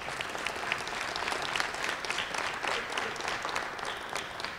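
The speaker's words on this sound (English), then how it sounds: "Let's give them a round of applause." Steady audience applause fills a room at a Jobs for Kentucky Graduates program event at The Academy @ Shawnee, dense and even throughout with no voices over it.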